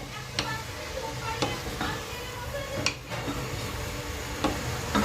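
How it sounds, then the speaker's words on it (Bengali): A spoon stirs bottle gourd with the other ingredients in a pan for gourd curry cooked with hilsa fish head, giving repeated scraping clicks over a steady soft sizzle, close and fairly quiet with no talk. "এবার ভালোভাবে সব উপকরণের সাথে ভালো করে মিশিয়ে নিচ্ছি।"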